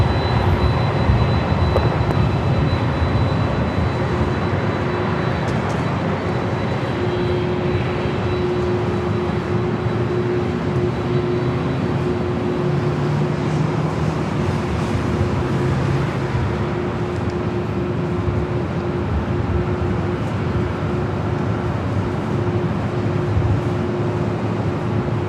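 A Delta airliner lines up and takes off from runway 24 left at LAX, a loud sustained jet roar with a steady tonal whine running through it, continuous and unbroken, with no voices.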